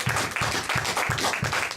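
A church congregation claps in a steady, rhythmic beat, roughly five loud synchronized claps per second-long stretch, close and continuous through a moment of worship.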